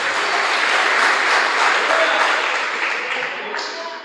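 A church congregation claps loudly and steadily, a dense continuous wash of applause from a large crowd that fades slightly toward the end.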